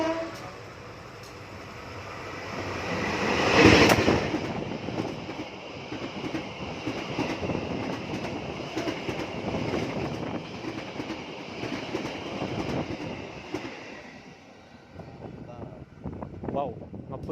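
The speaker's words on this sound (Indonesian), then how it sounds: "ini kereta api Matarmaja persiapan melintas langsung." The Matarmaja passenger train roars past at speed without stopping, loud and close, with rumbling wheels and rhythmic clatter that gradually fades away.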